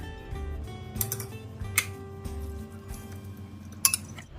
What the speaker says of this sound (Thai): เรานำทูน่าใส่ในชามผสมนะคะ